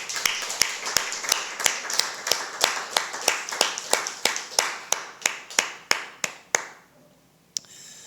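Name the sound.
congregation clapping for the heads of households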